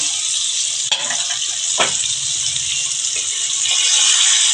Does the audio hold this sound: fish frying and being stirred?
yes